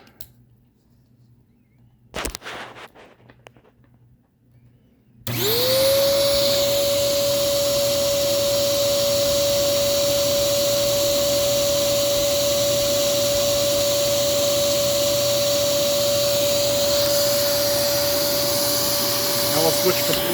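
A Eureka Optima 431BX vacuum cleaner in hose mode starts after a few seconds of quiet handling noise, then runs with a loud, steady whine and a sustained airy roar.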